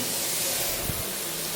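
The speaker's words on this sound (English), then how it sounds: "1 calorie spray on this hot ass pan." Low-calorie cooking spray hisses onto a hot pan in a home kitchen, a steady broadband hiss that fills the whole short moment, close and fairly loud with no talk.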